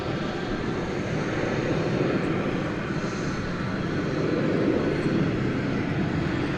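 At DFW an airliner rolls down runway 18 left on its takeoff run, its engines a steady, fairly distant roar with faint higher whines drifting in.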